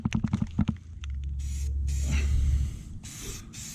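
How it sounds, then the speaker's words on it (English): Black paint sprayed onto a 2013 Dodge Avenger during a rebuild at a Maaco shop, a steady airy hiss lasting a couple of seconds, followed by shorter spray bursts after some clicks and handling noise. "we'll go ahead and spray the black paint on it"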